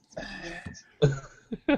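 A man in a tabletop role-playing game session gives short, throaty cough-like bursts, apparently imitating a character's cough; a few brief, close voiced bursts separated by pauses.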